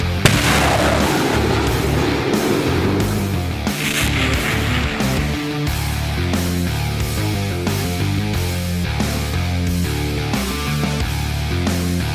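Live rounds fired from an MLRS rocket artillery launcher at an Army artillery firing point, a sustained loud roaring blast that fills the clip with rumbling low end and continuous rushing noise.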